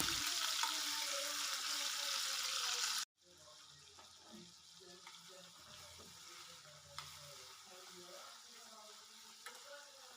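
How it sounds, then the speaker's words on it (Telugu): Tomatoes frying in oil in a pan on the stove for tomato chutney, a soft continuous sizzle with light stirring scrapes, heard quietly after a louder opening stretch of hiss and running noise. "స్టవ్ పైన ప్యాన్ పెట్టుకొని ఆయిల్ వేసుకొని ఇంకా టమాటోస్ మంచిగా మగ్గించుకోవాలండి. అంటే మంచిగా ఫ్రై అవ్వాలి."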